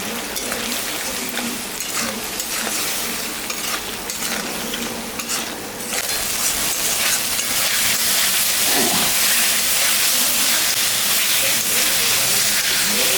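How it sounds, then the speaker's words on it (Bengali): Spice paste with salt and turmeric for a Bengali katla fish kalia fries loudly in a pan, a steady close sizzle and hiss with stirring scrapes, growing slightly louder midway. "মশলাটা আর একটু ভাজা হবে।"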